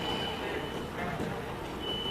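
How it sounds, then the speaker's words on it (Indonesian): During a church sermon, a thin electronic alarm beep sounds steadily in the background at a high pitch. It stays faint under a dense, noisy room ambience. "Ini bunyi alarm atau apa ya?"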